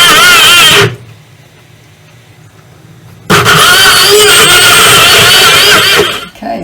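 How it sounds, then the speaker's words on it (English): A kitchen blender blends an aloe tonic mixture with brandy: a loud, steady motor roar runs briefly, pauses into near quiet, then surges back for several seconds before cutting off. "And we'll put it in the blender."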